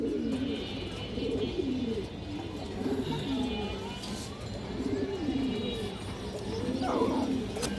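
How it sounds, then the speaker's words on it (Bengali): Pigeons coo repeatedly in soft, low rolling phrases, several birds overlapping close by at a steady level, with a faint background hum and no talk. "ফ্রেশ কবুতর।"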